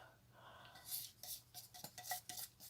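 Flour mixture stirred into brownie batter in a bowl: soft scraping and knocking of a utensil against the bowl in a quick, uneven rhythm, quiet and close.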